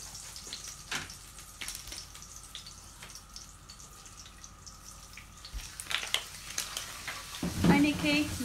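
Chorizo browns in a pan for one-pan flamenco eggs, a close continuous sizzle with scattered utensil taps and stirring, growing busier and louder toward the end.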